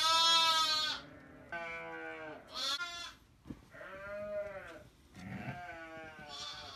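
A flock of about thirty sheep bleating close by, several loud wavering calls overlapping one after another with short pauses between, no talk.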